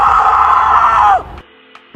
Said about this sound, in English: there's a child that keeps screaming outside our window